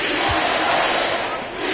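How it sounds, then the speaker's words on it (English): A basketball video game crowd roars in a brief, steady wash of cheering that stays loud throughout. "the crowd letting him know they appreciate greatness"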